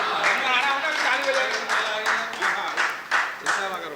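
Scattered audience applause at a Hindi kavi sammelan poetry recital, a thin patter of clapping in uneven bursts mixed with crowd voices and general hall noise.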